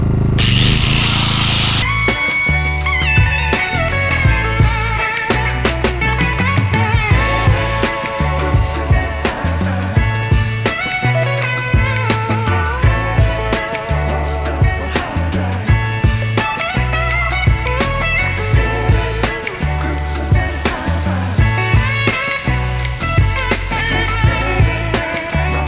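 A power sanding disc grinds on a vintage 1959 Larson boat during restoration, giving a loud, continuous whining and grinding tone with a rough, buzzing texture that fluctuates steadily throughout.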